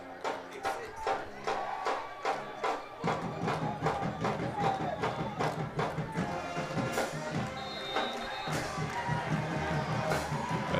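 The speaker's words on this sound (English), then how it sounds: "Godby team cheering on the floor, on the field." Crowd noise at a high school football game, Tallahassee Godby hosting Pensacola Pine Forest, with the home team cheering on the field; steady roar of voices and rhythmic claps or stomps, loud and continuous with some talk mixed in.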